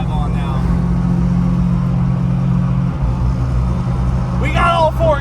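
Custom truck engine rumbling steadily while driving, with a shift point midway, under ongoing talk from people inside the cab.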